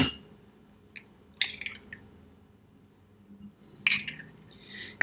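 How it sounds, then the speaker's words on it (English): An egg cracks against a bowl: two brief, crisp cracking bursts stand apart, each followed by soft wet drips and squishing over a quiet background. "you're going to take the egg, you're going to crack it"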